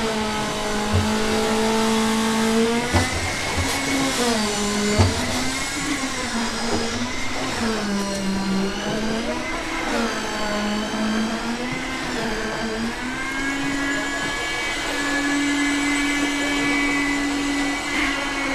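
A power mixer churns Nito Bond waterproofing compound for sealing roof leaks, a steady loud whirring motor drone with pitch wobbling up and down as the load shifts, running continuously throughout with no talk.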